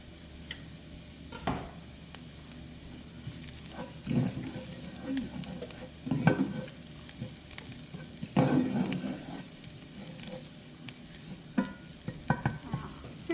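Garlic joins softening onions in a pan for a creamy one-pan pasta, producing a low sizzle with repeated bursts of stirring and scraping and light clicks in between.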